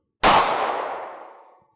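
A handgun fires once at a range during a comparison of polymer-frame and metal-frame pistols. The single sharp, loud crack rings out and fades over about a second and a half, with no speech.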